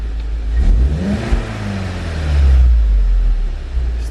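A cheap MK7 Volkswagen Golf GTI with an engine fault idles roughly up close, its low rumble surging and sagging unevenly with a couple of wavering revs that rise and fall over a few seconds.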